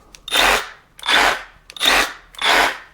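A Harbor Freight Hercules or Bauer reciprocating saw revs in four evenly spaced bursts, each a loud rising and falling buzz with short pauses between, up close and without talk.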